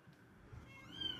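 A two-week-old kitten gives a short, faint, high-pitched meow, a thin rising squeak close by in a quiet outdoor camping setting.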